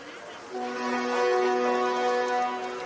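A train pulls away to a sustained, sharp horn-like tone with stacked steady harmonics, rising after a brief quiet start and holding fairly loud over rumbling background noise.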